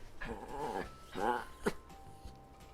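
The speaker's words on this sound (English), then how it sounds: "Sorry, my dogs just came in." Dogs entering a room at home, with a low growl and a short whimpering yelp close by among soft indoor sounds.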